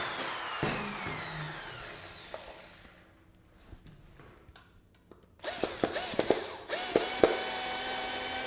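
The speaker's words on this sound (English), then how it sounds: "and we'll pre-drill our other hole." A power drill pre-drills a hole in a wooden block, with short whirring bursts and tool handling at first, then a louder stretch of drilling with rising and falling motor whine near the end.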